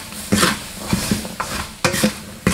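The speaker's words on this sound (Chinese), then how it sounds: "把刚刚腌好的花生倒进来，开启中火，不停的翻炒" Marinated peanuts stir-fried with salt in a wok over medium heat, giving a dry rattling scrape with five or six distinct stirring strokes at an even, unhurried pace, close and fairly loud.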